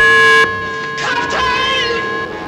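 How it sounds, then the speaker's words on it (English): A ship's loud steady danger-signal siren tone cuts off abruptly, followed by a warbling, rising alarm sound that continues over background noise. "Sound the danger signal."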